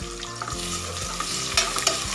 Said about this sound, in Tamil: இது நல்லா கலர் சேஞ்ச் ஆகிற வரைக்கும் நம்ம நல்லா வதக்கி எடுத்துக்கலாம்